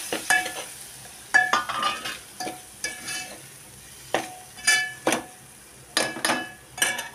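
Chilli powder, Malvani masala, garam masala, cumin and coriander powder sautéing together for mixed veg bhaji, heard as a string of sharp, close spatula scrapes and stirs over a low sizzle.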